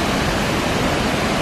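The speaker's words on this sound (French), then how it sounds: "Donc la cascade de Misol Ha." Misol Ha waterfall, about fifty metres high, gives a loud, steady rushing roar of falling water with no pauses and no voices.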